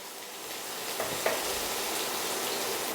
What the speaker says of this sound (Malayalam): ഇഞ്ചിയുടെയും വെളുത്തുള്ളിയുടെയും പച്ചമണം മാറുന്നതുവരെ നന്നായിട്ടൊന്ന് ഇളക്കി കൊടുക്കുക